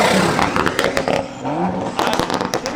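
At a car meet, a car engine revs in short rough bursts with crackling pops, close and loud amid crowd noise and scraping.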